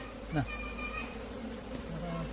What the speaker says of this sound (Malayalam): ഈച്ചകളെ വാരിട്ട് കൊണ്ട് നിൽക്കുകയാണ്